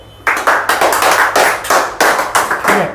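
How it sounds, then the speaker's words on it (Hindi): Audience clapping after a talk about competitive exam preparation and failure, a loud burst of dense, fast hand claps that continues steadily without voices. "अच्छी लगी तो ताली बजा दो।"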